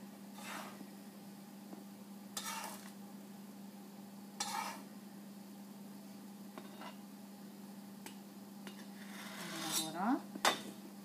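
Utensil scrapes and light clinks against a bowl as flour is spooned in gently for a yeast dough, a few soft, spaced strokes over a steady low hum, with a brief stirring clatter near the end.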